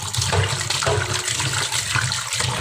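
Tap water runs and splashes in a kitchen as rohu fish pieces, rubbed with salt and turmeric, are rinsed; a continuous close gush with rhythmic surges from handling, no talking.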